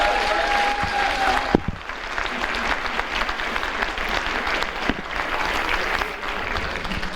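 Loud, sustained applause from a graduation ceremony audience at the IUT du Mans fills the hall, rising after a brief tone and continuing steadily to the end.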